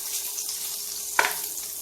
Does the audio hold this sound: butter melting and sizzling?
yes